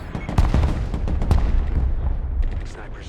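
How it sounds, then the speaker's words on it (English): Artillery barrage from the Broken Arrow war game, a series of loud close booms and cracking blasts in quick succession, tapering off toward the end. "There's the arty we knew was coming"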